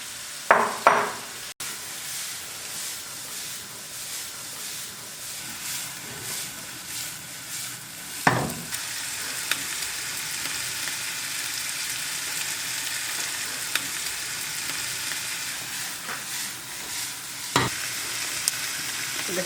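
Onions fry in a pan, a long continuous sizzle with occasional sharp spatula clanks and stirring scrapes, heard up close without any speech.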